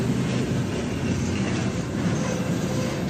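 Passing train, a loud, continuous rolling rumble with a clickety-clack wheel rhythm, close by, steady throughout.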